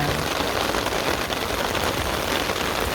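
Heavy monsoon rain driven by wind pours down on a rooftop garden of potted flowers, a dense, steady roar of drops on surfaces that stays loud and even throughout with no voices.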